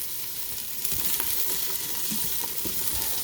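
Philly cheesesteak filling sizzles steadily in a Ninja Foodi pan while a spoon stirs through it, scraping and clinking intermittently over the constant frying hiss.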